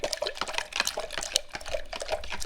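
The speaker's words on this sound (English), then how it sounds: "I put hot water in this cup because I want this fertilizer dissolving in hot water" Hot water being poured into a cup to dissolve orchid fertilizer makes a steady splashing, trickling stream with small drips, close by and moderately loud, with no talking.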